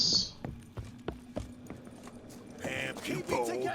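Horse hooves clip-clop in The Witcher 3: Wild Hunt, several sharp, evenly spaced hoofbeats at moderate distance, fading into a busier mix of voices and clatter in the final second.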